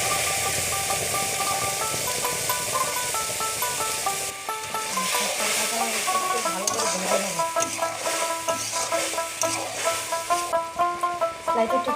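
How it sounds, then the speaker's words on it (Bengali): Bay leaf, nigella seeds, mustard and green chilli fry in hot oil with a steady, loud sizzle, and a spoon stirs and scrapes through it with bursts of crackling. "তেজপাতা, কালি জিরা সোমবারে দিয়ে দিচ্ছি। এই যে এটা সরষা আর কাঁচা লঙ্কা।"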